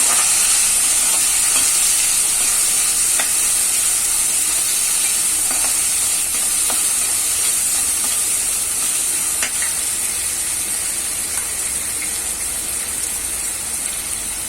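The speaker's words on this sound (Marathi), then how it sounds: "टोमॅटो आता हे चांगलं परतून घेऊया आपण." Chopped tomatoes are sautéed in hot oil in a pan for methi pulao, giving a loud, continuous sizzle with occasional soft stirring scrapes.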